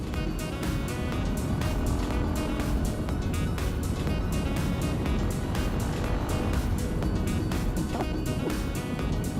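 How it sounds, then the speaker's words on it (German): A KTM SMC motorcycle ridden fast, its engine droning loud and steady with heavy wind rush throughout, no voices on top. "Schnellfahren ist so leicht mit dem Motorrad."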